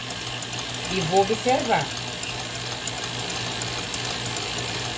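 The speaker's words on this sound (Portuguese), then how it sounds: "Agora, estou batendo na velocidade 5. A minha batedeira, ela vai até o 10." An electric stand mixer beats cake batter for a banoffee pie at speed 5 of its 10 settings, giving a steady, moderate motor whir throughout, with a short spoken phrase partway through.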